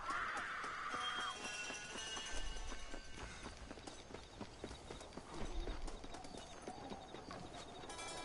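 Horses running in a Western barnyard panic, a dense continuous clatter of hooves with a brief high whinny near the start, heard fairly distant and muffled without talk.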